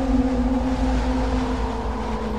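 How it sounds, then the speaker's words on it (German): Eerie howling ambience in the Kholat video game, a steady low droning wail with wind-like rushing noise, continuous and moderately loud with no talking. "Dieses Gejaule ist auch immer sehr interessant."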